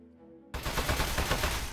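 Sustained automatic gunfire in Aperture Desk Job, a loud continuous rattling burst aimed at a metal target, starting abruptly after a quiet moment with no talk.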